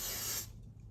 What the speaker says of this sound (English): you spray in the front and you spray in the back